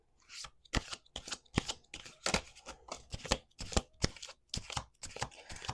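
Close, brisk shuffling of tarot cards, with repeated papery slaps and riffles in a steady rhythm and no talking.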